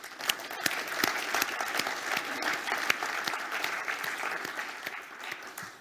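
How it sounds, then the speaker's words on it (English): Conference audience at an automotive logistics event applauds a panel, steady mid-level clapping with sharp individual claps standing out throughout. "I really think we owe them an extra round of applause"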